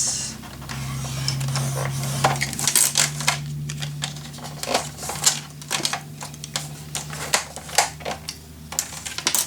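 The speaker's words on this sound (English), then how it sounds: "I'm going to cut this at 1 inch, score it" Paper strip for a Gorjuss mini album being cut and scored at one inch with a trimmer, giving repeated crisp clicks and scraping strokes over a steady low machine hum, fairly close and moderately loud.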